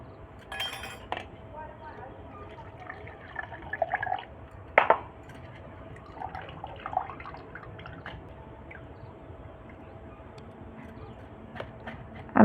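Water being poured and strained after grinding with garlic, cinnamon and aloe vera to make a plant fertilizer, with scattered drips, trickles and light clinks of containers, fairly quiet and close, with occasional speech in the background.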